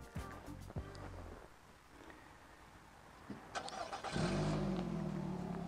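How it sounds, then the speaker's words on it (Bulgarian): Nissan X-Trail third-generation engine started by remote control: a few soft clicks, a starter crank, then the engine catching and settling into a steady idle, heard from close by. "Палиш от дистанционното, от разстояние."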